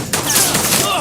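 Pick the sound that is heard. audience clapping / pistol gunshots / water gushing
pistol gunshots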